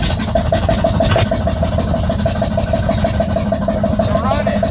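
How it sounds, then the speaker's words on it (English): The first home-built engine in a 1965 Jeep Wagoneer catches after starting fluid and settles into a rough, steady running idle, heard close and continuous throughout. "That sounds like an engine."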